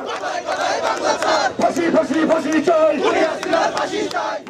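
A large crowd of students marching toward Dhanmondi 32 chants slogans in loud, rhythmic unison, the chorus rising and falling in repeated phrases with no break.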